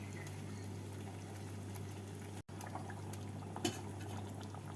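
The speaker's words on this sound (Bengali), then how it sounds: "ঝোলটা ফুটে উঠেছে" Curry gravy with egg koftas simmering on a medium flame, a steady low bubbling and hiss with a brief dropout and one soft clink, no voices.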